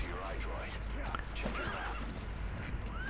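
D-Horse from Metal Gear Solid 5 whinnies in a high, wavering neigh while hooves clip-clop underneath against ambient game sound, with a voice talking faintly.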